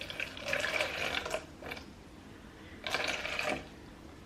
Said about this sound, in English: I'm gonna pour water in here to get to 100 grams.